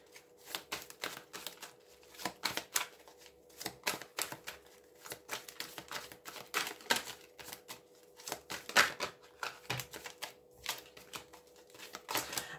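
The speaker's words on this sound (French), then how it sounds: "on va bien mélanger les cartes avant" A witches' tarot deck is shuffled by hand, giving steady close papery slaps and riffles that repeat in quick irregular bursts for several seconds, with no voices.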